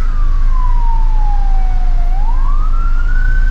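A loud ambulance siren wails steadily in congested Bursa traffic, its pitch gliding slowly down and then sweeping back up, over a low rumble of road traffic.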